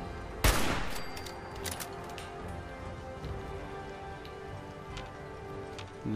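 A single loud, sharp sniper rifle shot cracks out in the video game Fallout 4, followed by a long, noisy, rain-like wash of ambient game sound with a few faint clicks.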